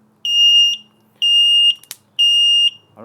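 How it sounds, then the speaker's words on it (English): A household smoke alarm sounds three loud, evenly spaced long beeps, each about half a second, with a brief click between the second and third beeps. "the smoke detector alarm off"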